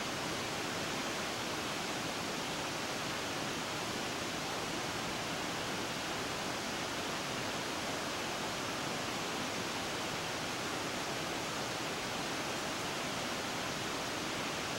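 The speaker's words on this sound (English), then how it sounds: "The sound of the water is wonderful." A steady, full roar of falling water at Bridal Veil Falls, constant and loud for the whole stretch, with no voices over it.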